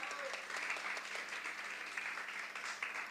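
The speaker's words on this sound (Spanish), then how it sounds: "Un fuerte aplauso para Eli" An audience at a dengue prevention training session applauds a doctor, steady sustained clapping from a crowd, fairly faint and distant, continuing evenly throughout.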